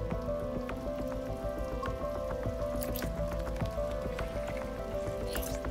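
Water leaking from a bullet-riddled aquarium in the game Bright Paw, heard as steady close drips and small liquid splashes over a low ambient hum and sparse musical tones.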